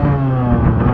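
A dirt bike engine revs loudly and steadily right up close at the start gate of an enduro test during a Rodgers Farm race, a continuous throaty buzz that carries on without a break.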